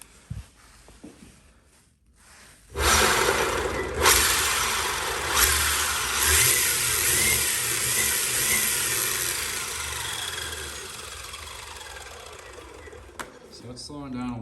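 Boardnamics M1-AT drive motor spinning its pinion in a test run, a sudden whirring start that holds a steady high mechanical whine, then gradually slows and fades, with someone talking over it.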